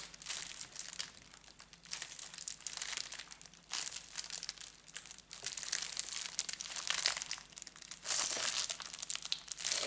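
Crinkly paper packaging of 190 gsm scrapbooking paper sheets crumpling and tearing up close in repeated bursts as it is pried open, with no talking.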